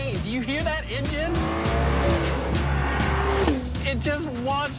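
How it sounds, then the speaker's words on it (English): A loud, insane-sounding custom car engine revs hard while tires squeal, the pitch climbing and dropping in surges over a steady low rumble, with voices talking over it throughout. "Do you hear that engine?"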